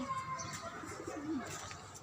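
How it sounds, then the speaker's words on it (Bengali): Soft, low pigeon coos come through faintly amid gentle outdoor background noise in a rooftop garden. "এদিকে কবুতর আছে"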